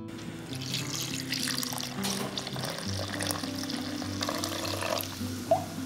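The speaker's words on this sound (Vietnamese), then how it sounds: "Tiếp đến các bạn cho vào 600 ml nước dừa" Coconut water poured from a container into a pan of chicken ragout in tomato sauce, a steady close splashing trickle of liquid lasting several seconds over a low background hum.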